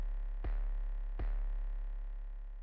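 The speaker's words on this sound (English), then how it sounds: "the Spins 808 that's been EQ'd to just leave out the highs so that it has a crackling sound" Two heavy booming Spins 808 bass hits, EQ'd to cut the highs for a crackling tone, each striking hard and then sustaining a long low decay that fades toward the end.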